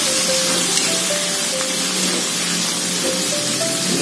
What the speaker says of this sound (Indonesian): Ini kita tumis sampai dia berubah warna ya, sampai matang ya.